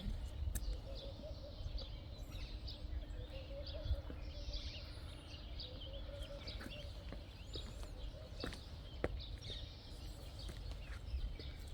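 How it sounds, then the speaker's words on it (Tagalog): Doves, crows and assorted other birds call in scattered chirps and coos among olive trees in Jerusalem, fairly faint over a steady low outdoor rumble, with a few sharp closer calls. "Ang mga maririnig mo dito is mga huni ng doves and crow and iba't ibang iba't ibang birds."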